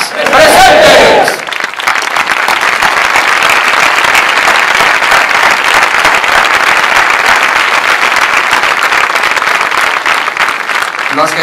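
At a Falange Española y las JONS anniversary gathering, a crowd bursts into loud, sustained applause just after a short shouted cry, the clapping continuing densely and evenly for about ten seconds.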